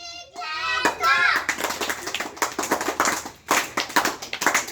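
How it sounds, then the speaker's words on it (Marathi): Group of children clapping for the winning team in a school party game, bursts of hand claps mixed with lively chatter and voices, close and fairly loud. "त्या डाव्या बाजूच्या संघासाठी सगळ्यांनी जोरदार टाळ्या वाजवायच्या आहेत."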